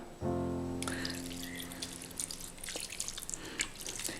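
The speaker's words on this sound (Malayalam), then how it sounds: "ഇനി ഇതിലേക്ക് കുറച്ച് വെള്ളം ഒഴിച്ചു കൊടുക്കാം." Water pours from a tap into a pot of chopped tomatoes for a raw tomato curry, starting with a sudden gush and settling into a steady splashing flow with small drips, close and moderately loud, no talk.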